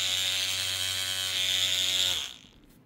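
A handheld cordless paint mixer runs at its high setting with a loud, close, steady motor whine, then spins down and fades out near the end.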